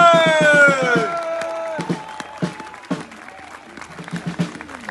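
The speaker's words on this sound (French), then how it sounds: "Attendez un applaudissement pour Charmel, mesdames et messieurs." A crowd at a political rally in France claps and cheers, starting under a fading sung or sustained tone, then continuing as scattered, uneven clapping that thins out.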